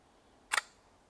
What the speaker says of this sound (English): So if it's a slow speed, it will be something like this.